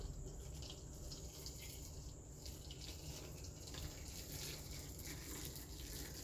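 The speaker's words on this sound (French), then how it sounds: "Et verser de l'eau chaude dessus." Hot water pours steadily over atipa fish being prepared with lemon, a continuous close splashing and trickling stream that stays even and unbroken throughout, with no talking.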